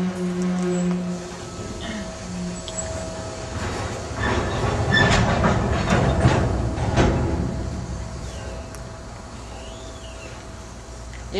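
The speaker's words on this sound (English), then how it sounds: "this sounds like a train that happens about every night at 12" A train passes at night near a backyard cookout, its rumble and clattering wheels swelling to a loud middle stretch before slowly fading, with no talk over it.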